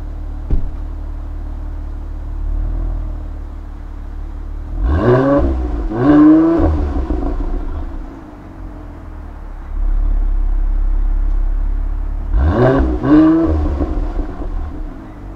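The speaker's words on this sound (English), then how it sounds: "you get from this AMG exhaust, as far as the exhaust note is concerned" A 2017 Mercedes-AMG GLC43 with AMG exhaust idles with a low rumble, then revs sharply twice in quick succession, settles, and revs twice more, loud and close.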